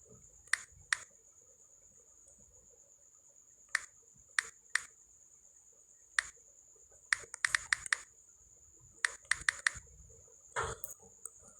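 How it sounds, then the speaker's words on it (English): Typing an email address on a computer keyboard: sparse, quiet clicks come singly and in short quick bursts, with pauses between groups and a steady faint background hum. "So you will type in your email, okay, your Google email or any other email, your Google email address."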